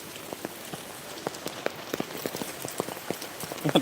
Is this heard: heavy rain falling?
yes